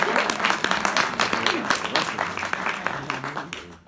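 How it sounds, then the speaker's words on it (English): An audience applauds a keynote speaker at an event, a fairly loud wash of clapping that carries on steadily and then fades near the end, with some voices mixed in. "Let's give him a round of applause."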